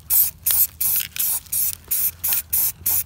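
An aerosol can sprays a coating onto a brake backing plate on a 1965 Scout 800 Dana 27 axle, eight short close hissing bursts in a steady rhythm with brief pauses between them.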